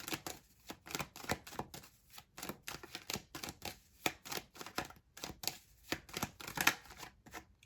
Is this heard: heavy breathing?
no